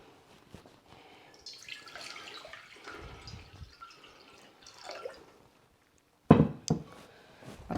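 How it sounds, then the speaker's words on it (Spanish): Water trickles and splashes into a cooking pot as it fills for boiling noodles, a soft uneven stream with a few pauses, ending in a louder burst of splashing near the end. "Vamos a poner agua para que empiece a hervir."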